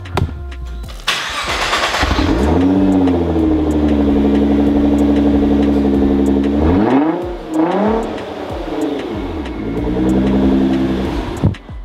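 A Nissan GT-R with an aftermarket exhaust cranks and roars to life loudly up close, settles into a deep rumbling idle, then gets blipped with a couple of throaty revs.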